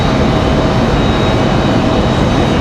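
Airliner jet engines run up at Raleigh-Durham International Airport, a loud, steady broadband roar with a faint high whine, continuous and close throughout.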